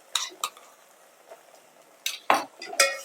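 Ground masala paste of coconut, onion, garlic and green chili is scraped into a pan with a spoon, giving a few short clinks and scrapes of utensil on metal, spaced apart and fairly close.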